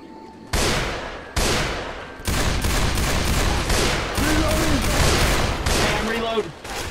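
Gunfire from a powerful gun in the zombie shooter Left 4 Dead 2: loud, close bursts of repeated shots with sharp onsets, several volleys in quick succession, with game effects and some background voices mixed in.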